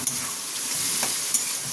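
Vegetable chow mein stir-frying in a hot pan, a steady close hiss of sizzling with brief spatula scrapes and tosses, no voices.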